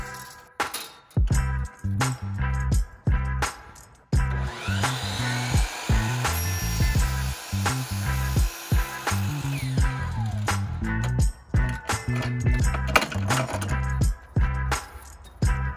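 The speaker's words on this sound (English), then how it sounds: "So we're gonna be cutting these aluminum flat bars on our miter saw here." A miter saw cuts aluminum flat bars in a van-build workshop, producing repeated loud bursts of blade whine and metallic grinding separated by short pauses, with clinks of metal between cuts.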